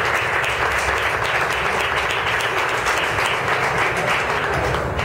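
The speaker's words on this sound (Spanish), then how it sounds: "Un aplauso para el poema de Carlos Reyes." Audience applause for a poem at a prize-giving event, a dense, steady wash of many hands clapping at full volume for the whole stretch, with no pauses.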